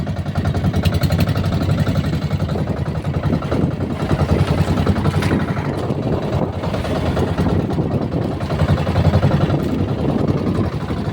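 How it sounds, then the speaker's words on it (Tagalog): A fishing boat's inboard engine running steadily out on the water while net fishing for cutlassfish, a loud, close, continuous mechanical drone with rattling clatter that never lets up. "sandito lang sa paa ko yung silinyador ang makina"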